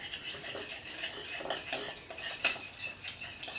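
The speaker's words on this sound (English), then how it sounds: "I'm give it a stir to mix this all up" A spoon stirs a seasoning mixture for corn ribs in a bowl, making soft, quiet scraping and light clinks in an irregular rhythm.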